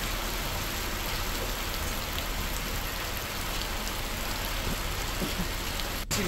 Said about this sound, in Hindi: लगातार बारिश हो रही है